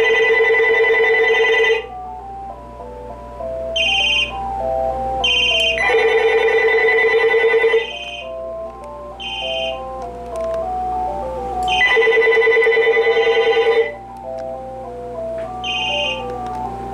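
Several telephones ring inside a phone cabinet. Loud electronic ring bursts repeat at regular intervals, and softer chirping tones fill the gaps between them, close and clear.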